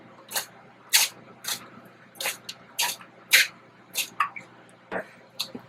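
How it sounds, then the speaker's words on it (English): Olive oil misted from a spray bottle while preparing hamburgers for a stovetop kettle smoker, about a dozen short, sharp hissing spritzes at uneven intervals, close and clear with no talk over them. "We'll spray some oil."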